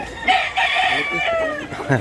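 A bullstag rooster crows close and loud in a busy rooster market in Cebu, with a clucking fowl nearby and faint voices behind.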